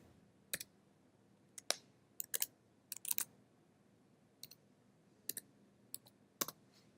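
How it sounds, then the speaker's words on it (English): Typing an email on a computer keyboard: scattered, crisp key clicks in small bursts with pauses between, quiet and close, no speech. "Then we're gonna type our email."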